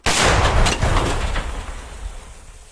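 A single powerful military artillery gun blast in combat with a sharp onset, followed by a long rumbling roll that slowly fades over a couple of seconds.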